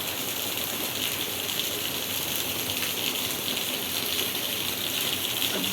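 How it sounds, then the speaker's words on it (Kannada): Heavy rain pours down in a steady, even wash of hiss and splatter that holds at a constant level from start to finish, with no voices. "ಇಲ್ಲಿ ಸಿಕ್ಕಾಪಟ್ಟೆ ಮಳೆ ಬರ್ತಾಯಿದೆ"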